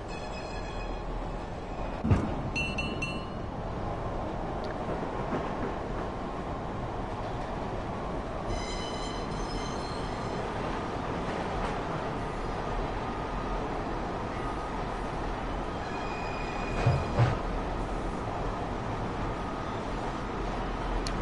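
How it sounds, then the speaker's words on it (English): Tram rolling along in Tram Simulator Urban Transit, an even low rumble with occasional clunks and brief high metallic squeals from the wheels, steady and close with no voices. "I must admit, they do actually sound like a tram"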